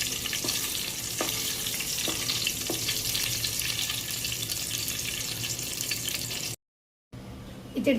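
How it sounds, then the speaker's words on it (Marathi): Dry fruits roasting in ghee in a pan for gur lapshi, a steady broadband sizzle with small crackles running close and continuous before a short gap of silence and a brief resumption. "थोडंसं तूप ॲड केलं आहे आणि त्यामध्ये ड्रायफ्रूट्स थोडेसे भाजून घेते."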